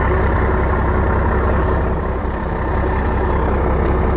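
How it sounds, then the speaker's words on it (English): The diesel engine of a 1975 Ford 550 backhoe rumbles loudly and steadily nearby, its low exhaust chugging without pause and no talking. "we listen to the melodious sounds of the diesel exhaust."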